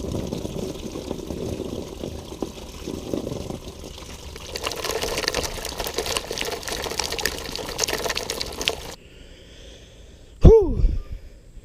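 Hot engine coolant drains from a BMW E36 into a catch pan, a steady broad splashing pour that swells midway, cuts off abruptly, then ends with a sharp clatter.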